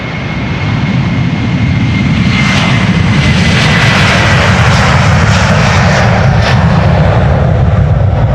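A jet airliner departing Amsterdam Schiphol Airport roars loudly and close by, a sustained powerful engine rumble and hiss that builds and holds as it passes.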